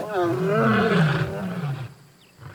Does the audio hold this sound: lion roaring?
yes